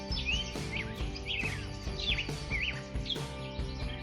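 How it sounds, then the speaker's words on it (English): Birds chirp and tweet in quick, repeated bright calls over a steady musical background, with several distinct chirps spread evenly through the passage and no talking. "Let's go to feed the birds."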